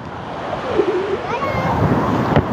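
Mediterranean sea waves washing onto a sandy beach at Ayaş Yemişkumu in Mersin, Turkey, a steady broad surf wash with wind noise on the microphone and a faint voice in the background.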